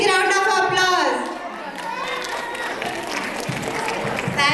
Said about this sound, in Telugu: please let me welcome Shri Madhu గంట గారు with a big round of applause